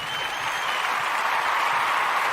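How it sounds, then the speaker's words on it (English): Audience at an Umoja Day gathering applauding, a steady wash of clapping from a crowd sustained throughout. "we want to give all the Umoja born a round of applause"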